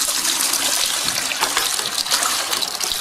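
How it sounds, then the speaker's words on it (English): Water gushing steadily into a plastic mixing bucket, ready for rapid-set tile adhesive for fixing floor tiles; a loud, continuous splashing pour with no gaps and no talking. "what I want to do is pour some water into my mixing bucket"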